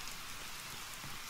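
Steady, soft hiss of rain from a weather mod in Fallout 4, with a dense patter of drops filling the background at a low, even level and no voices.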